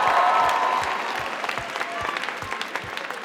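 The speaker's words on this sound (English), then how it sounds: "can I get one big round of applause for all of our competing teams and all of y'all tonight?" An audience at the 2024 Legends awards gives a big round of applause for the competing teams, dense crowd clapping that starts strong and gradually thins into sparser, distinct claps.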